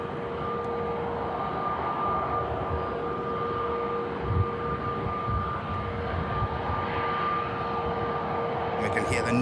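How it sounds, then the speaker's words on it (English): Neo engines on a Scandinavian airliner taxiing at Manchester Airport, a steady droning engine hum with a faint whine, constant and moderately distant throughout. "we can hear the Neo engines of the Scandinavian on the taxi as well"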